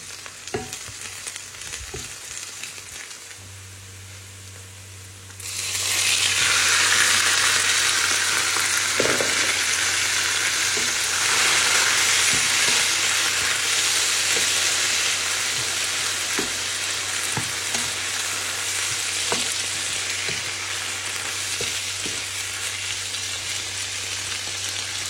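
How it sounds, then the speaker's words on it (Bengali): Malabar spinach fruit, boiled with salt and chilli, gets a tempering of onion and garlic in hot oil. A loud, steady, close sizzle bursts in after a quiet start and holds to the end, with occasional stirring clicks. "শুধু আমি পেঁয়াজ আর রসুন দিয়ে এখন বাগার দিব।"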